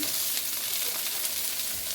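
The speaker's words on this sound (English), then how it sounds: "Yeah, get some of that sizzle, sizzle pop." Vegan cheese sizzles steadily in a frying pan alongside a chickpea scramble, a dense continuous crackle and hiss with tiny pops, close and even throughout with no talking.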